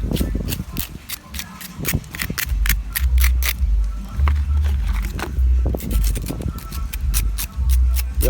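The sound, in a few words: scraping salt off saltfish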